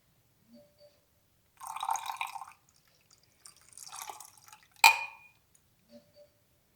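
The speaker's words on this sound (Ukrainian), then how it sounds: "Наливаємо в воду розбавлений барвник." Diluted dye poured into water for a children's volcano experiment: two short, quiet bursts of trickling liquid, then a single small splash against a silent background.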